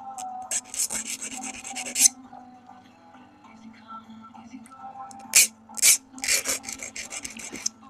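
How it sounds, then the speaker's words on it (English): The back of a knuckle grinds against a hard edge, making harsh, close rasping scrapes in short repeated bursts, one cluster early on and another after a quiet gap. "Grinding the back of my knuckle on the edge of this thing."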